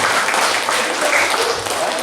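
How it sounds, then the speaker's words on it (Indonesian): Applause at an Indonesian family planning policy session in Musi Rawas, a dense continuous wash of clapping from a gathered audience. "Tepuk tangan untuk kita semua"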